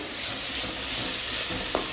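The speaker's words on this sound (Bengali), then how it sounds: "আর এদিকে মশলা কষানো হয়ে গেছে" Spices sizzle and crackle steadily in a hot pan, close up, with a soft stir and a small clink near the end.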